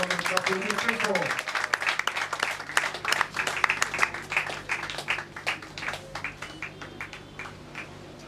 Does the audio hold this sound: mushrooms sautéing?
no